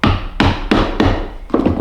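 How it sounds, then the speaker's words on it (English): A mallet strikes a chisel to square a drilled hole in wood: five sharp, close knocks at a steady rhythm about a third of a second apart, with nothing else heard. "the chiseling is pretty easy"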